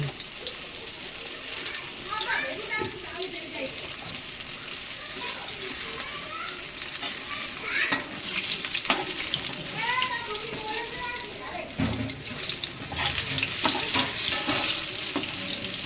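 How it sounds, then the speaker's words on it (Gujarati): Chili bhajiya fritters deep-fry in hot oil in a home kitchen, a continuous bubbling sizzle with clinks of utensils and people talking over it. "મિત્રો મરચાના ભજીયા બની રહ્યા છે અને તેલમાં તળાઈ રહ્યા"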